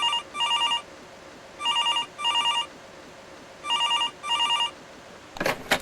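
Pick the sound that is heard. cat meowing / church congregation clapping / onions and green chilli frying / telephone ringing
telephone ringing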